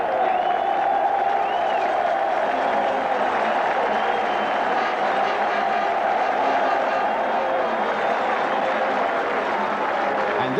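A Millwall football crowd at the club's last home match of the season, against Peterborough United, applauding and cheering in a steady, dense wash of clapping and crowd noise that holds for the whole stretch.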